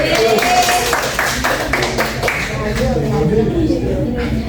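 Classroom students clapping, a short round of brisk claps mixed with chatter and a teacher's voice over steady room noise.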